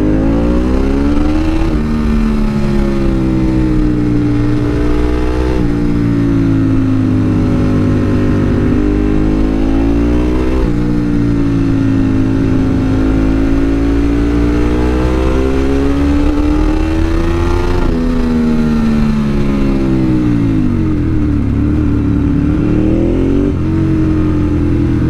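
An S7RR motorcycle nearby revs its engine again and again, the pitch rising and falling in long swoops over a loud, steady mid-range rumble, with no talking.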